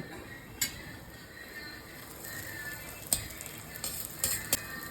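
Leftover dosa batter frying in a pan with coconut oil gives a faint, steady sizzle, broken by a few sharp utensil clicks and scrapes.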